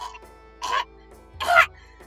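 A person imitates a cat coughing up a hairball, making two raspy, throaty hacking bursts close to the microphone with brief pauses between them.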